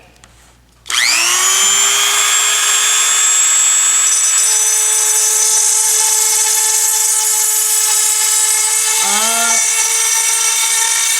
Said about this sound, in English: Let the Dremel do the work for you.